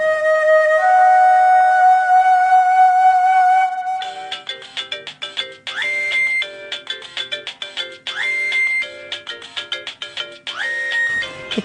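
A phone ringtone plays loud and alone, opening with a sustained electronic tone before it breaks into a repeating, bouncy melodic pattern of quick notes with rising swoops that loops several times.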